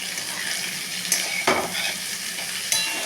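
Okra sizzles steadily in a hot pan while frying for a potato-okra poppy seed dish, with a few sharp spatula scrapes and clacks over the continuous hiss.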